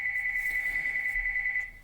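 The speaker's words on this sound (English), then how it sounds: "sorry for the phone interruption" A telephone rings with a steady, bright electronic tone that holds for nearly two seconds before cutting off.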